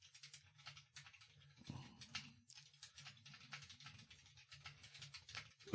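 Rapid clicking of keys being typed on a computer keyboard, an irregular stream of close, moderately loud taps with a low steady hum beneath, during a pre-stream podcast with a cat on the typist's lap.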